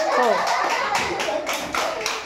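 A few people clapping hands during a children's balloon game, a short burst of close claps in several uneven beats, with a voice talking faintly underneath.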